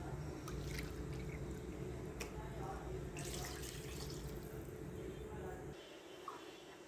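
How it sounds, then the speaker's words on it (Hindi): Water poured from a cup into a pan of Aloo chicken curry, a steady close splashing stream that tapers off near the end. "पानी उसी हिसाब से डाल लें।"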